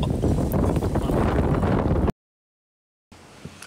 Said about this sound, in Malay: Maksudnya memang angin kuat gila lah.